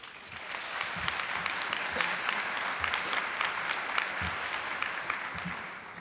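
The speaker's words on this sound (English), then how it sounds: "Please hold your applause until I get to the end" An audience claps in a lecture hall at a university president's annual welcome address, a dense, even patter that holds steady for several seconds at a moderate distance.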